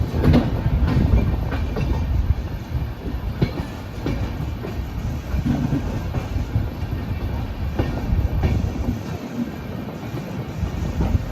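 The Brahmaputra Mail train rumbles steadily along the rails between Kamakhya Junction and Rangiya Junction, a dense, continuous low roar with faint rhythmic clatter from the wheels throughout.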